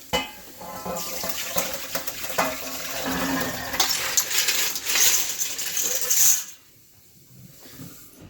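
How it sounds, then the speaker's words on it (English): Sea shells and rinse water poured into a strainer, a loud close rush of splashing water with rattling shell clatter for about six seconds, then stopping abruptly into quiet. "drain them out in a strainer and give them a quick rinse with some fresh water"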